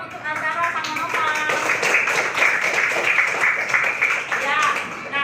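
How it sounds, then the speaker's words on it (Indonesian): A classroom group of children gives a burst of clapping and applause that carries on steadily for several seconds, with lively voices and chatter mixed through it. "kita kasih tepuk tangan dong untuk Azara sama Nova."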